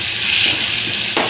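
Green chili, ginger and garlic sizzle in hot oil in a pan, a steady close hiss of frying with a brief rise near the end.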